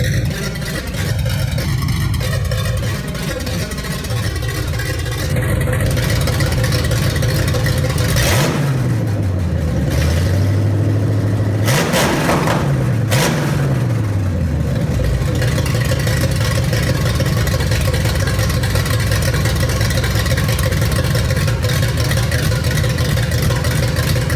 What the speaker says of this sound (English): I set the motor down in the car, fired it up, went through the break-in procedure